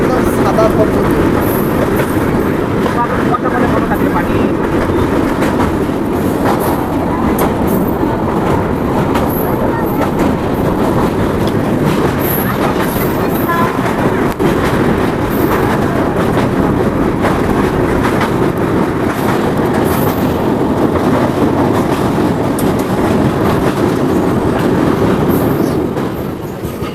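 Kanchankanya Express 13149 rolling over the Teesta river bridge in the Dooars during the monsoon, a loud, steady rumble and rattle of carriages heard from on board, with clattering wheels and voices beneath.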